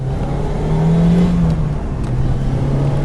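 A Lotus Elise with a Toyota 1.8-litre supercharged VVTi engine drives along, its engine droning loudly and close just behind the seats, with a steady note that rises slightly in pitch and holds.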